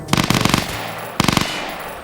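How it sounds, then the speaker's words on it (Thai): Two rapid bursts of automatic gunfire in a Thai military roleplay video game, close and loud, each a quick string of shots separated by about half a second of quiet. "อาจจะมีการยิงปืน"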